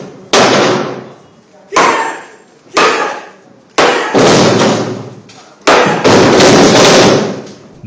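A hammer smashes a 100 kg stone slab resting on a martial arts trainer's belly as she lies on a table, giving a series of five or six loud, sharp impacts with crashing decay, close and with no talk.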